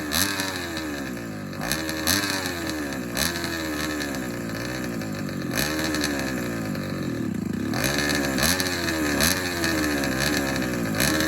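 An eighth-scale model engine runs loud and steady throughout, a rasping buzz with its pitch rising and falling as the throttle shifts, with no pauses.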